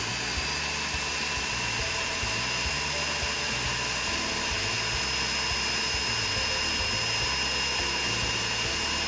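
A rotary tool with a tiny burr runs at a steady high-pitched whine, cleaning the solder join on a sterling silver ring band, loud and continuous with no talk.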